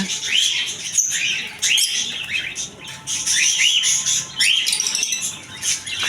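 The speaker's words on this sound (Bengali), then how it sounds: "আমার কাছে আছে আলবিনো ককাটির পাখি" Albino cockatiels give repeated shrill, rising chirps and whistled calls, fairly close and loud over a background of other birds and faint flutter.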